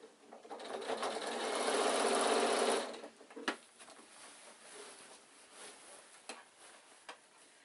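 A sewing machine stitches the side and main fabric of an insulated picnic bag in a loud, fast continuous run of about two seconds, then stops, followed by scattered clicks and soft handling noises.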